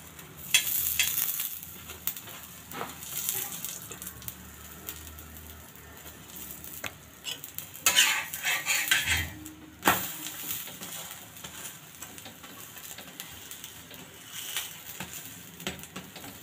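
A stuffed whole wheat kulcha roasts in ghee on a pan while being pressed down, a soft low sizzle running throughout with a few louder crackling bursts and scrapes, quiet and close.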